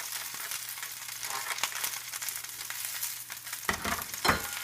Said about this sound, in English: And I'm also going to add some onions. These are just some purple onions I've cut up.